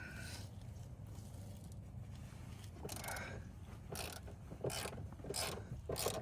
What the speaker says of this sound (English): But you can see I'm using my long ratchet wrench here.